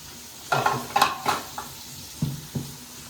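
Food sautéed in a pan with salt gives a run of close, brisk scraping stirs over a light sizzle, in two clusters with a short pause between.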